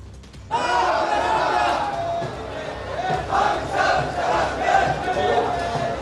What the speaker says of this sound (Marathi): आझाद मैदानावरती सुद्धा आंदोलकांची आज मोठ्या प्रमाणात गर्दी झालेली आहे